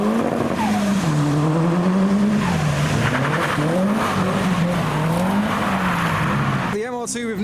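Tuner cars, among them a turbocharged red Mark II, roll slowly over speed bumps with a steady engine drone that rises and falls in pitch. A voice talks over the engines throughout.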